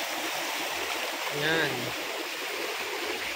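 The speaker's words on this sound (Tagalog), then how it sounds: "Tingnan niyo itong running water, ayan. Parang sapa." Running water of a clear mountain stream, a constant rushing hiss that fills the clip, loud and near, with someone speaking briefly over it midway.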